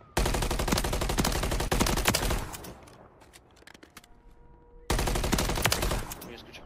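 Rapid automatic gunfire in Call of Duty MW3, two loud, dense bursts of rattling shots close up, separated by a short lull with quieter game sounds.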